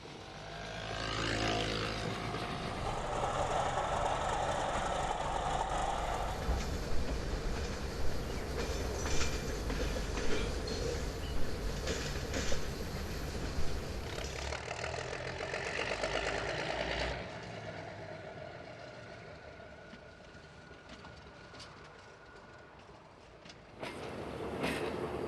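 A small regional tramway train near Détrier station in France, running on rails with a steady rumbling clatter and rhythmic wheel clicks that rise and fade over about twenty-five seconds, old archive-film quality, with no voices.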